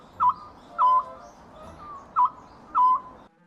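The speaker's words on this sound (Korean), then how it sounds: "소쩍새 울음소리가 들려왔다." An oriental scops owl calls as a sound effect in a narrated story, four short, clear hooting notes spaced roughly evenly, fairly close and loud over a faint background hush.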